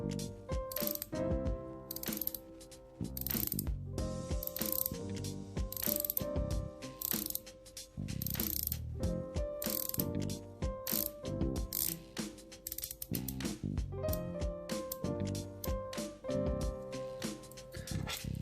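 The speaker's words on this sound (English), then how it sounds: "both watches have 120 click bezels" The 120-click bezel of a Longines Hydroconquest dive watch being rotated, giving close, crisp ratcheting clicks in quick bursts with brief pauses, heard alone.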